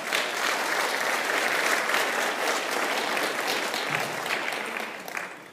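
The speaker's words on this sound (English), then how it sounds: "I need to remember to wait for that applause" Dense audience applause at a college debate on religion and society, loud and sustained for several seconds before tapering off slightly at the end.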